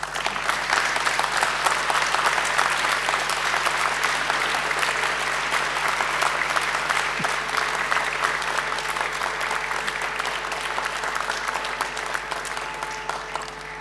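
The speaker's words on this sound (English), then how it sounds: "I invite you to give them a mighty round of applause" A graduation ceremony crowd of graduates gives a loud, sustained round of applause toward their families and friends, dense clapping filling the hall steadily throughout without talk.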